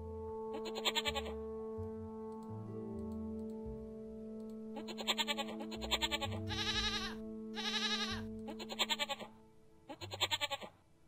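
A goat in the video game Rusty Lake Paradise lets out a series of wavering, nasal bleats in uneven bursts, some long and quavering. Steady low sustained tones from the game's soundtrack drone underneath, and no one speaks.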